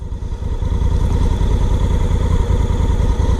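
A 2017 Honda Africa Twin motorcycle rides steadily on a daily commute, its engine droning loud and continuous with a low rumbling pulse and some mechanical clatter throughout.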